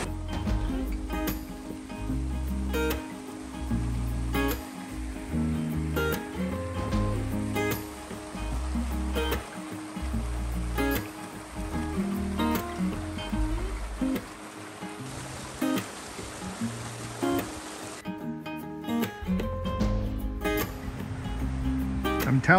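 A river flows beside a flat dirt trail on the Appalachian Trail in Connecticut, a steady low watery wash under rhythmic footsteps on the path.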